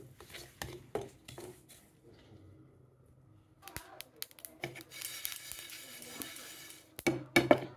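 Dry-roasting mustard seeds, peppercorns and dried chillies in a pan on a gas stove, with scattered clinks and scrapes of a spoon against metal, soft and intermittent, rising to busier rattling toward the end.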